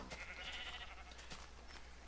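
Sheep bleating in the Minecraft video game, a single faint wavering bleat over quiet background, with no one talking.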